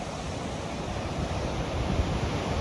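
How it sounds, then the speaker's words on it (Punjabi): Water in the Sarsa river flows with a steady, broadband rushing roar, constant and moderately loud with no voices over it. "ਇਧਰੋਂ ਸਰਸਾ ਨਦੀ ਆਉਂਦੀ ਹੈ ਤੇ ਆਹ ਵਾਲੇ ਪਾਸੇ ਨੂੰ ਜਾਂਦੀ ਹੈ"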